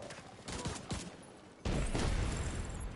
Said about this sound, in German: da ist gerade irgendwas explodiert